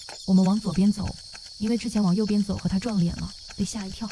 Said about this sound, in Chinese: 听到蝉叫就说明已经回到第一区域了